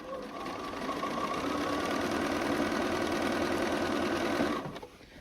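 A sewing machine runs steadily for several seconds stitching quilt fabric pieces for a double wedding ring quilt, a continuous close whirring hum that stops abruptly near the end.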